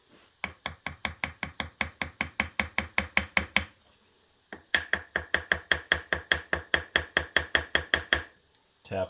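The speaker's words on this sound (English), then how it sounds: "tap the sides of the forms." A small hammer taps repeatedly on the sides of DPS forms filled with concrete mix for a Jersey barrier, in two steady runs of about twenty quick knocks each, with a short pause between them.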